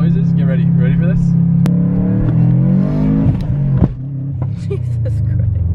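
A car with a hood scoop and an imperfect tune rumbles and revs up loudly close by, its engine note climbing and dropping, with a person talking over it.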